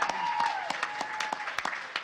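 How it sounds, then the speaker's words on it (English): A crowd at a horror fan event applauding, with sharp individual claps popping over a steady wash of clapping and faint voices underneath. "I think we should give another round of applause to Fangoria and all the guys here"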